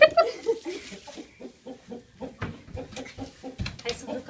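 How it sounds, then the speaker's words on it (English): Roosters clucking on a farm, a busy run of close, repeated short clucks and calls with some talking mixed in among them. "They're all roosters."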